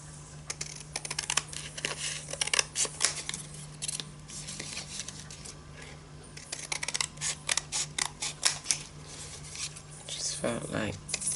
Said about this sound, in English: what I'm going to do is cut them to make them a bit more, well, this particular one smaller.